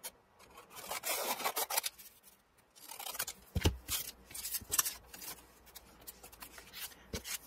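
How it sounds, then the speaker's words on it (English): Scissors cutting roughly around paper for a shaker tag, a close series of crisp snips and rustling paper scrapes in irregular bursts, with no talking. "Cut this out"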